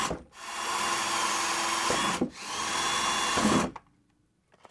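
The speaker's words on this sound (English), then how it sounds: "That's where I'll drill, and I'll be careful though when I'm drilling" A power drill bores holes into the body of a Jeep Wrangler 4xe, whining in two steady bursts of a couple of seconds each with a brief pause between, then stopping and leaving near-silence.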